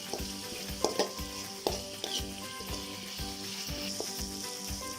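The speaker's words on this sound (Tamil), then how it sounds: "இப்போ தக்காளியும் எண்ணெயில் நல்லா வதங்கிடுச்சு" Tomatoes sautéing in hot oil for prawn masala, a steady close sizzle and fry with stirring knocks and scrapes of a spoon in the pan at irregular intervals.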